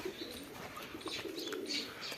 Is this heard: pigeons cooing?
yes